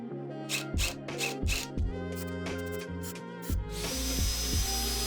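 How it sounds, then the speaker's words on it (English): A power drill drives long screws into a wooden floating shelf joint, its motor whirring in a series of short close bursts and then running steadily toward the end. "I pre-drilled holes, countersink, and then screwed in all the screws."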